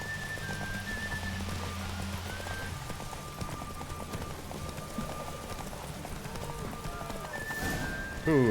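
Hooves of the horse Roach clip-clopping at a gallop in The Witcher 3, a steady rhythmic beat over game ambience with a brief whinny and rain-like hiss, ending in a louder burst.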